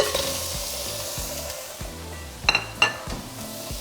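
Meat hits hot oil in a pan and sizzles steadily at close range, with a few metallic clinks of a utensil against the pan while music plays underneath.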